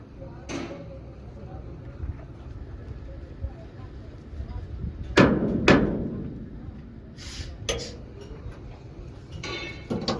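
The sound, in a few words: sledgehammer blows while removing vehicle leaf spring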